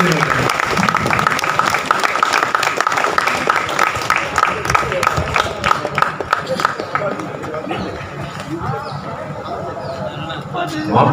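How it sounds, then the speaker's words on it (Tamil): Audience at a retirement function in Madras claps loudly and steadily, dense applause that gradually thins toward the end, with voices talking underneath. "கொஞ்சம் கைத்தட்டல் கொஞ்சம் வேகமா இருக்கும்."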